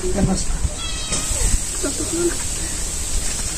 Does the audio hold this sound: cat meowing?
yes